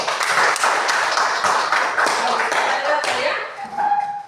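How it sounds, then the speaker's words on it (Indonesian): Classmates in a school classroom clap their hands for a student about to read aloud, a brisk patter of claps from a small group close by, tapering off toward the end. "Coba tepuk tangan dulu untuk Widya"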